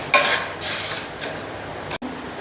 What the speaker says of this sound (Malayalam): പരിപ്പ് ഞാനിപ്പോൾ വറുക്കാൻ വെച്ചിട്ടുണ്ട്.